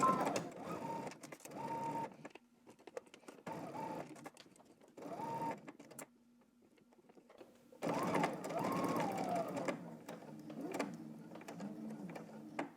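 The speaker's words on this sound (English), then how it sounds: "now we're gonna head to the sewing machine and we're gonna stitch across and then around the curve" Home sewing machine stitching a pants seam with 5/8-inch allowance, running in several short whirring bursts separated by pauses, with a longer run near the end, close and fairly quiet.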